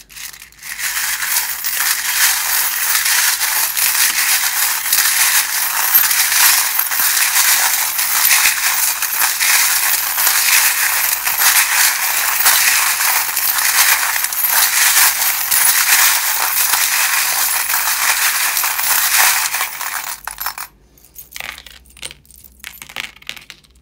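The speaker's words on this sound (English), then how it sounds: "if you don't like the sound of the charms" Dense, continuous metallic jingling and clattering of small metal pieces being shuffled together, loud and steady for about twenty seconds before thinning out.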